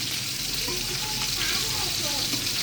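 Hilsa fish fries in a pan with a steady, close sizzle and faint crackling throughout, with no voices.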